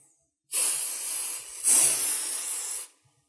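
Cleaning spray aimed at the circuit board of a hard drive: two close, loud hissing bursts with a brief dip between them, then silence.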